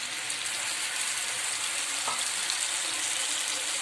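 Tamarind extract, squeezed twice from 400 grams of tamarind, is poured into a hot pan for puli inji and stirred, giving a steady, even sizzling hiss with a faint stirring scrape partway through.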